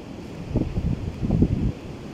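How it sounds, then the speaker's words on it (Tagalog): Sea waves on a beach at Umiray, Dingalan, Aurora, with wind buffeting the microphone; low rolling surges swell twice and fade under a constant rushing wind, and no one speaks. "Ayan po yung mga naglalakyan alon ng dagat ng Umiray, Dingalan, Aurora."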